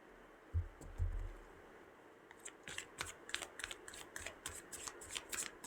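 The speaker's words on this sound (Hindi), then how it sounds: "टारो से कुछ कार्ड्स निकालते हैं।" Tarot cards are drawn and shuffled at close range, with a couple of soft thumps followed by a run of quick, crisp riffling and flicking sounds.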